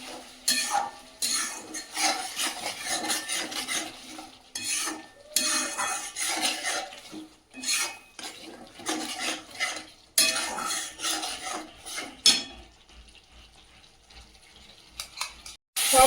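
Spiced masala for a big-fish kalia fries and is stirred with sour yogurt, a spoon scraping and clinking against the pan over a steady sizzle; the stirring comes in repeated bursts and grows quieter near the end.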